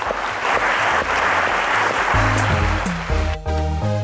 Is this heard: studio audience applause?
yes